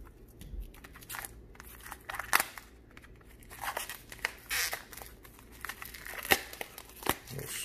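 Cardboard and plastic packaging of a QGeem HDMI capture card tears and crinkles as it is opened, with scattered rustles and a few sharp rips spread across the moment, close and moderately loud, with no talking.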